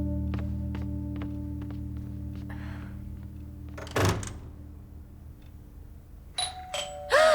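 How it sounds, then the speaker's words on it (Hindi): A doorbell chimes twice near the end, clear and moderately loud over a low steady room hum, after a quieter stretch with a soft thunk in the middle; no one speaks. "जब तुम्हें पासवर्ड पता है तो तुमने डोरबेल क्यों बजाई?"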